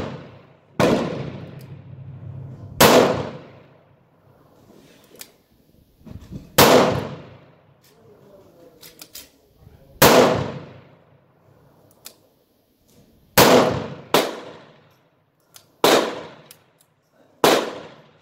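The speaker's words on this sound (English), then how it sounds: "Put another 5 shots in here" A Taurus 85 .38 Special revolver firing Federal target loads at a shooting range: about nine sharp, loud reports spaced irregularly a second or two apart, each decaying quickly into quiet.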